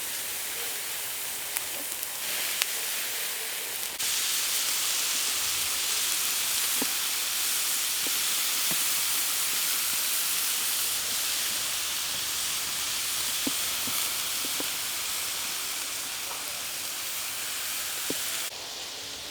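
Asado-style beef ribs sizzle on a grill in a continuous soft hiss, steady and close, with faint crackles and pops scattered throughout and no talking.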